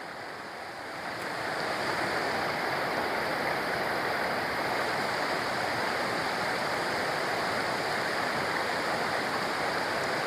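A Scottish waterfall churning white frothy water, a dense, steady roar of rushing water that swells in after the first second and holds evenly, close and loud with no voices.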